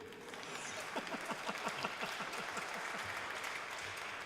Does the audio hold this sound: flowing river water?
no